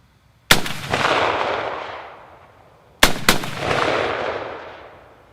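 Two loud, close Johnson rifle shots a few seconds apart, each a sharp crack followed by a long rolling echo that fades away.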